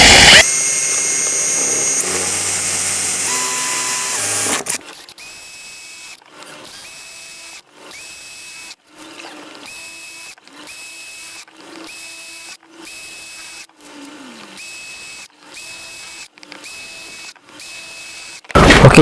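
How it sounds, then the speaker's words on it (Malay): An electric drill with a 10 mm bit bores holes in a plastic gutter for an aquaponics bell siphon. A mechanical whir comes first, then a rapid series of short drilling bursts separated by brief pauses. "untuk lubang pada bell siphon saya akan gunakan drill bit 10mm."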